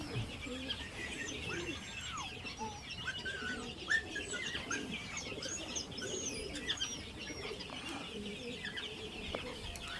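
Young pigeons in a loft coo faintly amid a busy mix of chirps and cluck-like bird calls, all quiet and somewhat distant, with no clear wingbeats.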